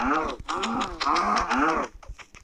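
A cow in the Minecraft video game gives two loud, close, drawn-out moos one after another, followed by a few brief clicks of gameplay.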